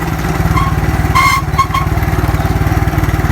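Motorcycle engine running close by with a fast, even put-put pulse throughout, loud and steady, with a short burst of higher tones partway through.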